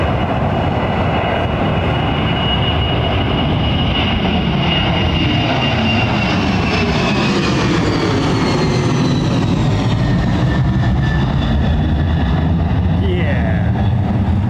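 A Boeing 777 in American Airlines livery idles on a taxiway at Heathrow, a smoky older jet whose engines give a loud, steady roar with a rising whine, continuous throughout, with voices talking over it.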